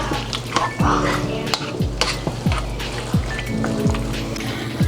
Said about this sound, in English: our stir fry is coming together